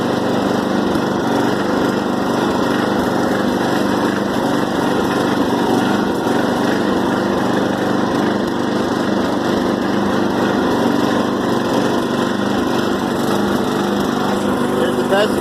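A 12hp Murray riding tractor engine runs steadily while the tractor is driven, a loud, continuous buzzing drone close by that holds an even pitch throughout with no pauses.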